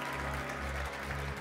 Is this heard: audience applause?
yes